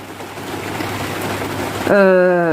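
Rain falls as a steady, soft hiss for a couple of seconds before a voice starts speaking over it.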